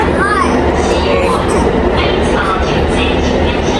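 Inside a Taipei MRT subway train, a steady, loud rumble of the carriage fills the space throughout, with a faint high squeal of the wheels early on and scattered voices in the background.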